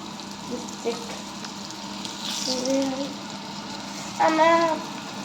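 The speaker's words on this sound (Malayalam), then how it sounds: "എണ്ണ നല്ല തിളച്ചിക്കണ കാരണം ഞങ്ങൾ അത്യാവശ്യം തിളച്ച എണ്ണയിലേക്ക് ഇട്ട്" Marinated broasted-style chicken pieces bubble and sizzle steadily in very hot oil, with soft clinks and occasional faint voices in the kitchen.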